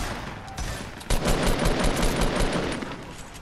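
Rapid bursts of automatic gunfire from a Fortnite match crackle in quick succession, loud and dense with a sharp burst near the middle, echoing as a firefight sequence without talk.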